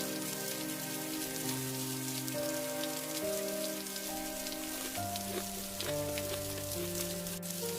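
Rain pattering on a tarpaulin over an open roadside food cart, a steady dense hiss of drops that runs throughout beneath sustained background music.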